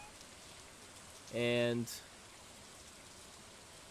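Rain falls as a steady, soft hiss throughout a scene in the farming video game Stardew Valley, with a short tonal game sound rising over it partway through and a single spoken word.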